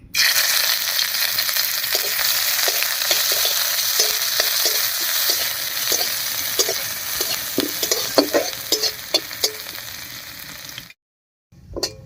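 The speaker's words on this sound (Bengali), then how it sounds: "এবার একটু পেঁয়াজ কুচি ভেজে নেব।" Chopped onion sizzling in hot oil under a steady hiss, punctuated by repeated spatula scrapes and clicks against the pan, stopping abruptly near the end.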